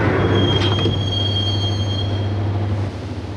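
Train car rolling toward a station in the Max Payne video game, a steady low rumble with a thin high wheel squeal running along, fairly loud and without speech, easing off near the end.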